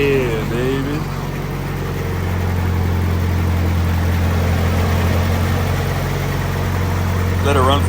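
A Nissan S14 engine idles with a steady, close, low rumble and even hum throughout, with brief voices at the start and end.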